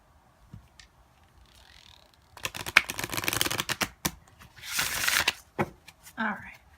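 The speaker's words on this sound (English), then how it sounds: "Cut and shuffle." Tarot cards riffle and flutter in quick bursts, close up, with taps and shuffling sounds; a voice speaks briefly in between.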